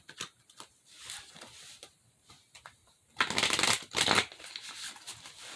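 A deck of oracle cards shuffled by hand, a few light riffles at first, then two louder, fuller bursts of card flutter close by, with no talk.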